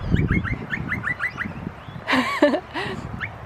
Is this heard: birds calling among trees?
yes